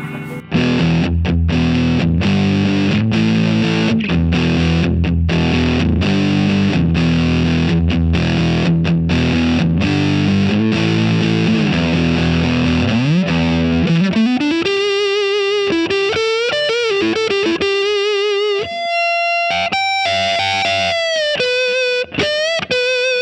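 Electric guitar through a handmade Mosky Obsessive overdrive pedal with the drive at three quarters, gritty distorted chords chugging steadily, then a run of sustained single-note lead lines, loud and close.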